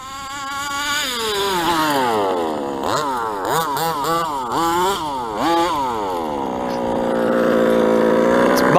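A gas engine in an Associated 5th-scale RC truggy revs hard at full throttle, its buzzing whine climbing and dipping in rapid surges, then holding a high, steady scream.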